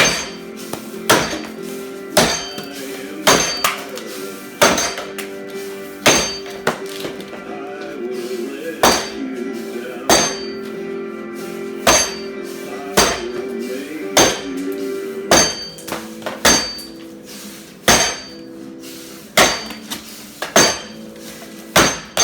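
An axe chops into a 10-inch white oak log during event training, with sharp, loud strikes repeating roughly every second or so, each with a ringing thunk, close to the listener.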